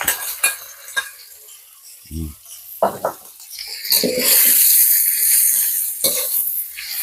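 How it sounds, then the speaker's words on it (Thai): Bacon frying in oil in a pan for mixed fried rice, with a steady close sizzle building through the middle, broken by a few stirring clinks and scrapes of a utensil against the pan. "น้ำมันก่อนครับ ก็ เจียวเบคอนกันครับนี่"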